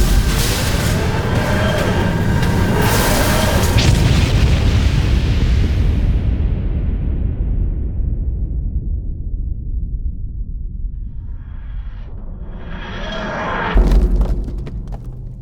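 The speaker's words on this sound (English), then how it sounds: "10 seconds to the big pretty explosion." A large explosion in a Doctor Who audio drama: a loud, broad roaring blast that rumbles for several seconds, then decays into a long low tail, with a fresh burst of debris near the end.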